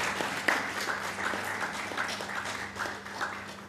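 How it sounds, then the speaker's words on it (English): A lecture audience on Indian versus Western culture applauds, with moderately quiet, evenly sustained clapping and a few distinct individual claps standing out. "can you please applaud a little loudly?"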